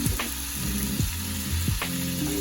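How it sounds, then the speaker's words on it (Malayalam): Tomatoes and curry leaves frying in a pan, a steady close sizzle broken by three distinct scraping stirs of a spoon. "ഞാൻ ടൊമാറ്റോ ഇങ്ങനെ ഇളക്കി കൊടുക്കുന്നുണ്ട്."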